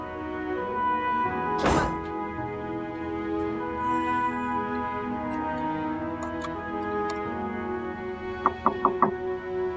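Knocks on a door in a domestic drama scene, a single heavy thump early then a quick run of three or four sharper raps near the end, heard under steady background music.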